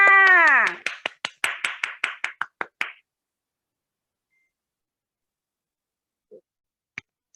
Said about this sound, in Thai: ขอเสียงปรบมือดัง ๆ ต้อนรับนะคะครูปูหนึ่งฤทัยดีชัยรำค่ะ